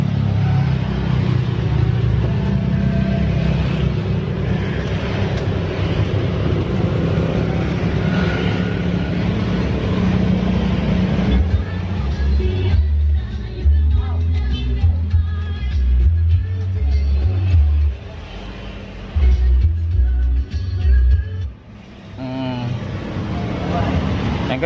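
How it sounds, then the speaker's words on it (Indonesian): Used car engine starting and idling, a steady low rumble with pulsing low-end throb that grows choppier midway, heard close up under background talk. "kita lanjut untuk hidupin mobilnya ya. Kita akan dengar suaranya,"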